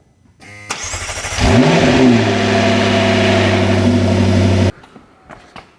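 McLaren 650S twin-turbo V8 fired up after an oil change: a starter whir, then the engine catches with a loud rising rev before settling into a steady high idle, cut off abruptly after a few seconds.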